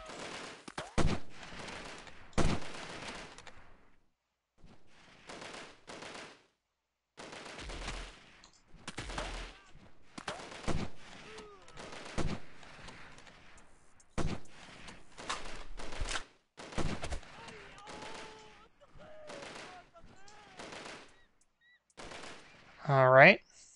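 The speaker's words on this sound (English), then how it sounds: "I'm hearing shots." Gunfire in the military shooter Delta Force, sounding as scattered bursts and single shots at varying distances, some sharp and close, others distant, with quiet gaps between them and a brief loud burst near the end.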